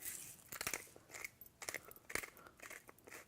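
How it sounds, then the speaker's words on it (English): Fresh black pepper being cracked in a pepper mill over a chive mustard, a few short crunchy grinding bursts close by, with brief gaps between turns. "A couple grinds of fresh pepper."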